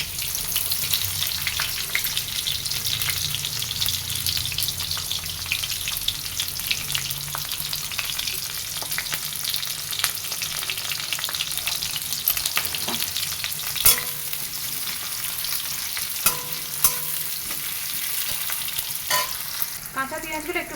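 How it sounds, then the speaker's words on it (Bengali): Raw onions fry in hot oil in a wok, giving a steady, close sizzle with scraping stir strokes and a few sharp clinks throughout, no voices. "কাঁচা পেঁয়াজগুলো একটু ভাজা ভাজা হবে,"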